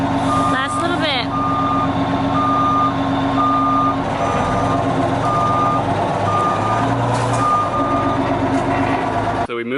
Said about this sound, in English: So we moved the bus